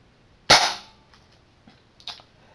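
A Nerf X Strike slug blaster fires a single shot, a sharp snapping pop with a short airy tail, followed by a couple of faint clicks and a small clack.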